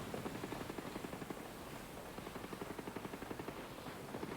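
An automated turret in Ghost Recon Breakpoint fires a rapid, steady burst of shots, heard faint and distant as an even mechanical rattle with no talk over it.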